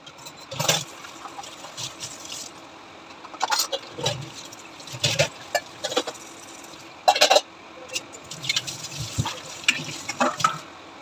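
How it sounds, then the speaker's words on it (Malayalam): Dishes from yesterday's pulao being washed at a sink: running tap water with intermittent splashes, gushes and sharp clatters of pots and plates, moderately close and uneven in rhythm. "പാത്രങ്ങളെല്ലാം ഒന്ന് കഴുകിയെടുക്കട്ടെ"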